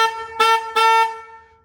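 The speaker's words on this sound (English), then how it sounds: "We even got a horn." A street truck's horn sounds in three loud close blasts, the second and third short and evenly spaced, the last trailing off.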